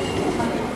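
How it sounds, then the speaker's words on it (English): A RENFE intercity train rumbles steadily into a station platform in Spain, its broad, continuous rolling noise filling the short moment at close range. "Coming into platform 4 is a train heading south."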